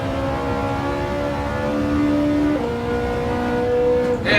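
Ferrari 308 engine accelerating out of corners in the racing game Gran Turismo 7, a loud steady harmonic engine note rising in pitch, with a gear change near the middle and another at the end.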